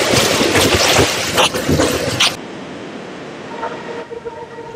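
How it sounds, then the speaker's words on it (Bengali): Vistadome train with a glass-roofed observation coach, running between NJP and Alipurduar through the Dooars: a loud, dense rumble and rattle of wheels on rails that drops to a steadier, quieter roll partway through, with no voices. "দুর্দান্ত এক ট্রেন সফর আজ শেয়ার করছি আপনাদের সাথে"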